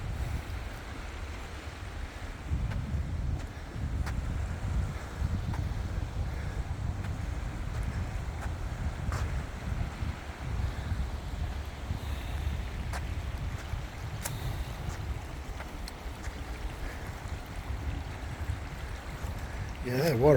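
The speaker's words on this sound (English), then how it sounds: "The rapids are flowing." Rapids flowing after rain, a continuous low rushing roar of water with some wind buffeting the microphone, steady from start to finish and fairly close.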